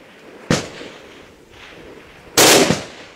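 Two sharp, loud gunshots ring out in an outdoor firefight, one near the start and a heavier double crack later, each with a brief echoing tail.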